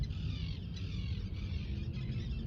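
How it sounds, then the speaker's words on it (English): Birds call steadily in the background, faint and continuous, over a low rumbling ambience with no clear individual calls standing out. "See, the birds is making that noise."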